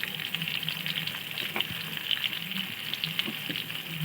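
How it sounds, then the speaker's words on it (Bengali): Potato pieces frying in hot oil, a steady close sizzle with faint stirring clicks, for a Bengali potol chingri dish with salt and turmeric added. "এবার আলু দেখুন বন্ধুরা, এইভাবে আলুটাকে ভালো করে নেড়ে চেড়ে ভেজে নেবেন"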